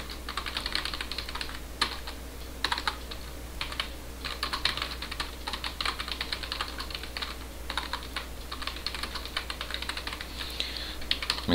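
Computer keyboard typing a message, irregular bursts of close, crisp key clicks with short pauses between runs, continuous for about eleven seconds with no talking.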